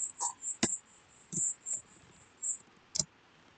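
Several crisp, separate clicks of typing on a computer keyboard during network configuration work, sparse and irregular, fairly close, with no talking.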